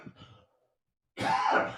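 A single rough cough bursts out close to the mic after a brief pause, preceded by a short murmur.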